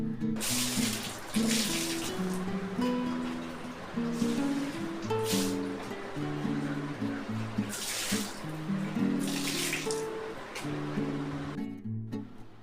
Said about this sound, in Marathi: आता इथे लगेच मी बाल्कन्या धुवून घेते तिन्ही पण बाल्कन्या धुवून घेते